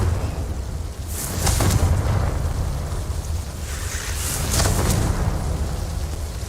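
Two loud, rumbling Confringo blasting-spell explosions in Hogwarts Legacy, each a booming burst that trails into a crackling roar, with nobody speaking.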